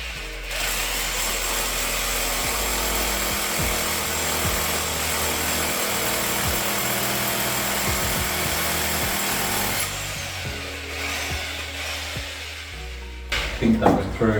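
A power drill whines steadily and loudly for about ten seconds as it bores through a brick and cement wall, then stops, followed by a few knocks and rustles.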